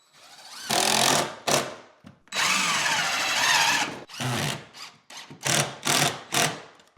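A power drill drives screws into green board drywall around a bathtub in repeated bursts: two short runs, a long sustained whine, then several quick pulses, loud and close with no talking.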